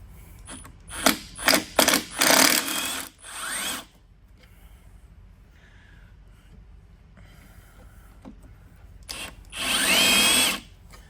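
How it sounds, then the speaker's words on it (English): A power drill fitted with a screw extractor bites at a stuck bolt on a long-idle barn-find Hayabusa motorcycle, several short whining bursts early on, a quiet pause, then one more sustained burst near the end. "All right, I got me a screw extractor."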